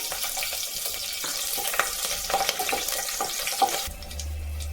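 Four cut green chillies sautéing in a little oil for coconut milk rice, a bright continuous sizzle with a few spatula taps near the pan, then a low hum coming in at the end, no talking.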